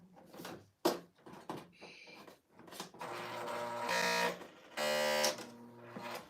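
A Bernina serger overlocking fabric runs in two steady buzzing bursts, the second starting after a short pause, preceded by a few handling clicks and thumps.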